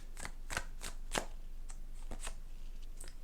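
Tarot cards being shuffled by hand, a series of soft crisp riffling flicks at irregular intervals, close and fairly quiet, with no talking.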